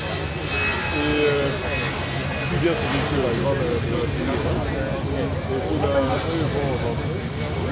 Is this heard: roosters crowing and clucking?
no